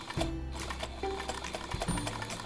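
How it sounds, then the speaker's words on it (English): A sewing machine runs in short bursts while stitching a straight line, a close rapid mechanical whirr with brief pauses and restarts, heard without talk. "sew right on the straight line"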